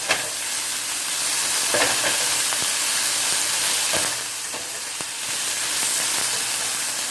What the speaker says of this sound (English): now it's just a matter of stirring everything up and making sure it's brown